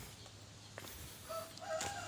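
Laying hens in the second coop of a farm housing about 950 birds, with a rooster-like crow and scattered clucks rising over a steady background hum, moderately near.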